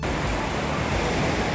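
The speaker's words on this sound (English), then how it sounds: "Look closer at the waves, guys." Waves wash steadily onto the Baltic Sea shore, a continuous rushing roar with soft wind, heard close and evenly with no talking.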